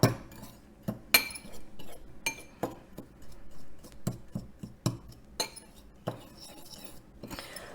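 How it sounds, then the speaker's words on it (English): A fork clinks sharply against a bowl while mixing sugar, a quick irregular series of metallic taps and scrapes, close and fairly quiet. "And then I'm going to mix it together with this fork."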